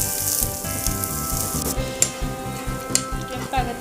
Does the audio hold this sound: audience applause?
no